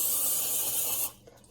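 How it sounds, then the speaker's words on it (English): Cooking spray hisses from a can onto a pan in one continuous close burst of about a second, then cuts off abruptly, no talking. "spray your pan with cooking spray"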